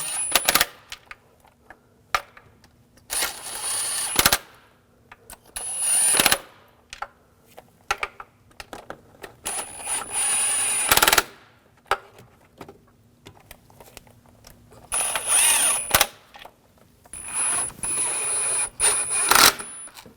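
Ratchet clicks in short bursts while bolts are snugged down during knock sensor replacement on a 2007-2013 BMW 328i with the 3.0L inline-six, with sharp metallic bursts separated by quiet pauses.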